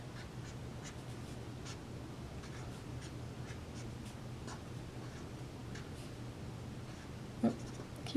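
Marker squeaking and tapping faintly on a board while chemistry structures are drawn, quiet intermittent strokes against low room hum with one brief louder knock near the end.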